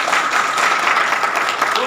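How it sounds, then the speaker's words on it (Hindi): Church congregation clapping after a scripture reading, a dense, steady burst of many hands at close range, brief and loud with no clear speech over it. "खुदावन के कलाम के लिए जोरदार ताली।"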